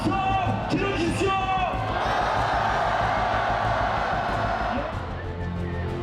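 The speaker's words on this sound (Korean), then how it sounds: "함성 들어주십시오." A protest crowd at the 2016 Korean impeachment rally shouts and cheers as torches arrive with a broadcast truck, a swelling roar that rises and holds, with voices speaking over it.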